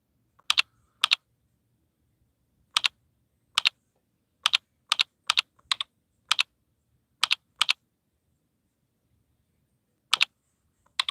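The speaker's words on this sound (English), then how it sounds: "Can you hear me typing?" Keystrokes on a computer keyboard during a catalog unboxing, in short separate bursts of two or three crisp clicks spread across the span, close by and alone with no talk.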